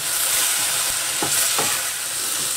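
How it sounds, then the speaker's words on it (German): Carrots and ham frying in a pan, a steady dense sizzle close by, with two brief scraping stirs partway through. "Und dann das Ganze nochmal so 2, 3, 4 Minütchen etwas anbraten."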